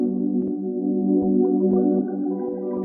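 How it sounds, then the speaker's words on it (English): A dark R&B synth pad with reverb holds a steady, warm stacked chord at even loudness, alone, with brief dips at regular points as it sustains. "With the main pad, it sounds like this."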